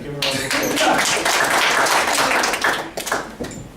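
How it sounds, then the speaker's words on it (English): Audience applause at a live presentation, a dense, steady wash of many hands clapping that holds loud for about three seconds and then thins out toward the end. "Alright, you should give a round of"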